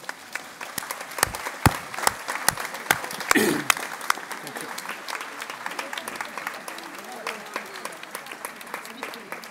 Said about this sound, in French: on peut l'applaudir chaleureusement